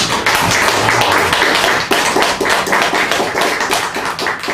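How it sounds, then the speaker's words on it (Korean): Church congregation applauding, a dense, loud burst of many hands clapping close by that goes on without a break and eases off a little toward the end. "성기사님 일어나서 박수 한번 쳐드립니다"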